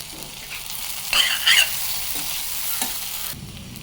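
Mustard seeds and cumin sizzle and pop in butter with okra for a dry okra stir-fry, a steady hiss with a brief louder crackling burst in the middle, close and alone.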